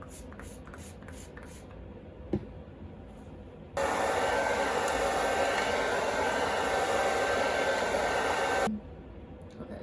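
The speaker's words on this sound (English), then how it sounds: "we got one section of the blow dry done, and then now let's work on section 2." A hair dryer blowing out type 4 hair switches on into a steady, close rushing roar that holds for about five seconds, then cuts off, leaving a quieter room.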